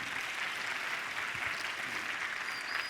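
A congregation at a winter church camp gives a big round of applause after a missionary's testimony, steady even clapping heard from some distance for the whole stretch.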